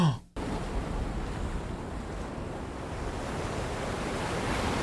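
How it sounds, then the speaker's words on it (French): Ocean waves close the episode of Daredevil: Born Again, a loud, steady roar of surf and wash that fills everything after a brief opening sound cuts off, continuing alone with no voices. "cette fin là comme ça avec le bruit des vagues"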